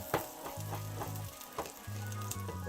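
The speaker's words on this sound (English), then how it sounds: "I'm adding a little bit of oil, and then I'm gonna add some garlic and some scallion. Let this saute for a bit." Garlic and scallion sautéing in a little oil, a steady close sizzle and frying hiss with occasional stirring clicks and scrapes, no talking.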